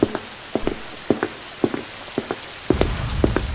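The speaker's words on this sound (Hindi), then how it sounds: "बहुत तेज बारिश हो रही है।" Heavy rain falls with a steady hiss. Over it come regular, close, heavy drips or thuds that repeat in pairs at an even rhythm, and no one speaks.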